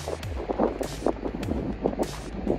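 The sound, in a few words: wind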